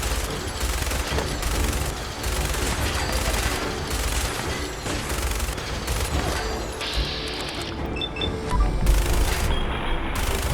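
A minigun fires continuously in rapid, dense bursts, producing a loud, ragged buzzing roar of gunfire with brief gaps and some mechanical clatter.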